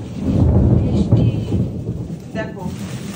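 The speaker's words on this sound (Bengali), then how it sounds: "বাইরে মেঘ ডাকছে" Thunder rumbles loudly outside during a rainstorm, a deep rolling roar with steady rain hiss beneath it, swelling and fading across the whole stretch.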